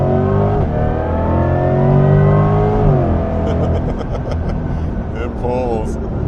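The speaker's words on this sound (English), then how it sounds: "It pulls, it gets up and goes, and that electric sound with an electrifying car." A Corvette C8 E-Ray accelerates hard. Its engine note climbs and swells in pitch, dips, then pulls again with a whirring electric whine over the roar, close and loud.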